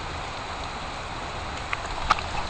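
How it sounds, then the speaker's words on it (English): Heavy rain pours outside, a steady broadband hiss with a couple of sharper drip taps near the end. "Tortoises barely dare to come out in this kind of rain."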